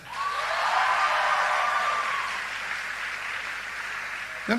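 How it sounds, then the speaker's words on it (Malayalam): Applause from a church gathering of the Australian Syro-Malabar community for Sojin and his team, a broad steady clatter of many hands that swells quickly, holds, then gradually thins toward the end. "സോ നമ്മുടെ സോജിൻ ചേട്ടനും ടീമിനും ഒരു നല്ല കയ്യടി ഒന്ന് കൊടുത്തേ"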